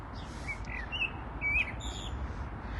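Several birds chirp and sing outdoors in a wild field with dandelions, near a burnt-out site, with repeated short bright calls over steady low background noise and no talking.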